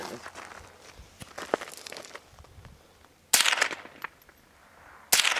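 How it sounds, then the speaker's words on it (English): Gunfire at a tactical pistol, rifle and sniper shooting challenge: two sharp loud reports a couple of seconds apart, with faint clatter and movement sounds between them. "Okay, two shots."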